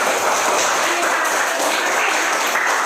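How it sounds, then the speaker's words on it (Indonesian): Classroom audience applause during a teacher training practice lesson, a steady dense wash of clapping filling the whole stretch at even loudness with no voices standing out. "Berikan tepuk tangan."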